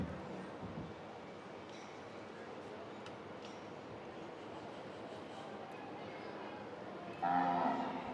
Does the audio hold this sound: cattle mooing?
yes